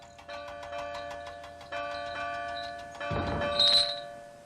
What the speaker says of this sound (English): The bell chimed cheerfully as it was loaded onto Duncan's flatbed.